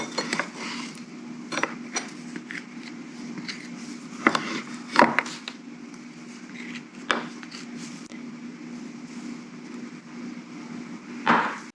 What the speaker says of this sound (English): Because tahini is just ground sesame seeds, the oil in it often separates and it needs a good stir